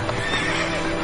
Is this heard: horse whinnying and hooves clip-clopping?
yes